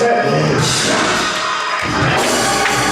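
A church congregation cheering and shouting, a loud, dense crowd roar that holds steady throughout and has scattered voices in it.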